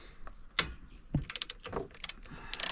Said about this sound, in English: we have got a socket for the nuts